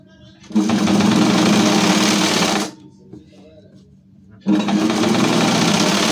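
Sewing machine stitching a V-neck collar on a nighty: two loud, close bursts of rapid mechanical whirring separated by a brief quiet pause.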